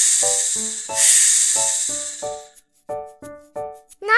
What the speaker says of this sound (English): Snake sound.